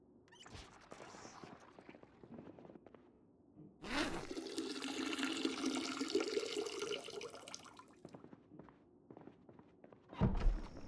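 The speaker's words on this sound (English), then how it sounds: "Not much in here, but at least I can refill on water." Water runs from a tap into a container in the video game Project Zomboid, a steady splashing stream lasting several seconds, framed by soft footsteps and muffled thunks before and after.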